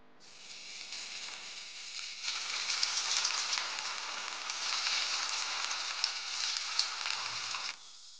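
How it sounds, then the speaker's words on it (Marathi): Steady, loud sizzling of hot oil frying kothimbir vadi in a wok, a dense crackling hiss that swells after a couple of seconds and continues without talk before cutting off. "आता आपण फ्राय करून घेऊया."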